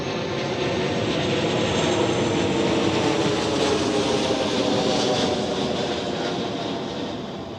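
An airliner at Zurich Airport in fog roars loudly with a broad jet rumble that holds steady, then slowly fades toward the end; no talking.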